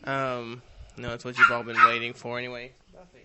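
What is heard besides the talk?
dog barking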